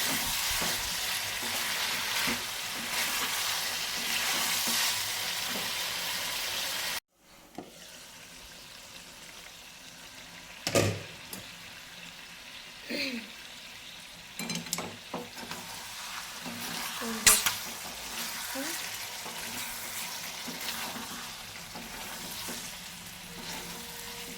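Curry masala fries and is stirred in a pan. A bright sizzle carries the first seven seconds, then drops away sharply to a quieter simmer. Occasional spoon knocks and scrapes follow, close by, with no speech.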